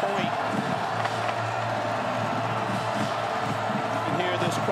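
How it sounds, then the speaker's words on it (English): A large college football stadium crowd roars and cheers continuously in the background, broad and sustained, with a low steady hum beneath it. "You can hear this crowd really getting into this ball game, getting to their feet"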